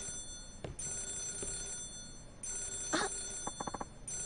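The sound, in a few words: telephone ringing in the video game Yakuza 0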